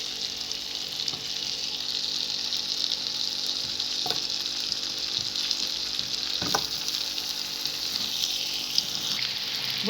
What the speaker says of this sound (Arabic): الزبده هي ابتدت تسيح بقى معانا، هنزل بالبطاطا بالشكل اللي انت شايفاه ده